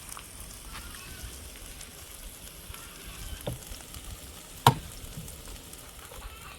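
Mackerel frying in a pot, a steady soft sizzle with faint crackles and one sharp pop partway through, with no talking.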